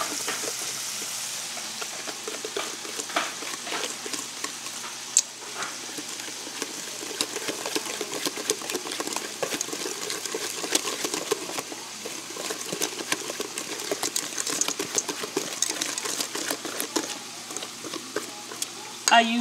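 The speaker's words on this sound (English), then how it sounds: "I'm going to whisk my cornbread with this whisk." A metal whisk beats cornbread batter in a big bowl in a home kitchen. The scraping and clicking is close, steady and continuous, with a faint sizzle of frying in the background.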